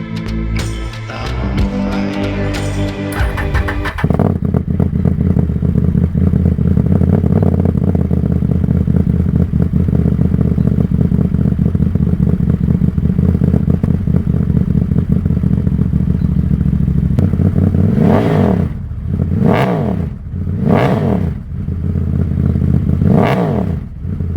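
Ford Maverick engine running through a custom DIY exhaust, a loud steady idle rumble after an initial clattering start, with several rev blips toward the end.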